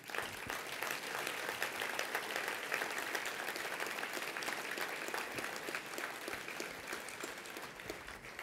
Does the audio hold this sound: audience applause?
yes